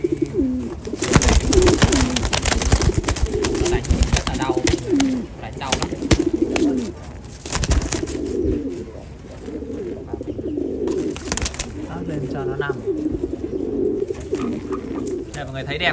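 Domestic meat-breed pigeons coo steadily in a loft, their low rolling calls continuous and close amid handling noise and rustling, with a person talking over them.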